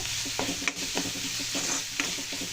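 Onions with salt and turmeric cook in a pan under a steady, quiet sizzle, with soft periodic scraping stirs from a spoon.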